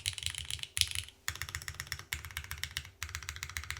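Typing on a custom full-size mechanical keyboard with a PP plate and MX2A switches: bursts of quick, deep clacky keystrokes in rapid runs separated by short pauses, close and fairly quiet, with no talking.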